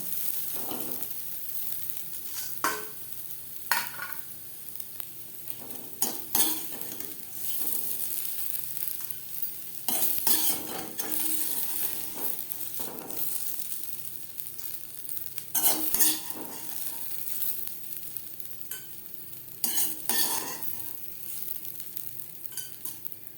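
Okra pieces fry for crispy kurkuri bhindi, sizzling in a pan while a utensil stirs and scrapes through them in repeated bursts, steady and close with no talking.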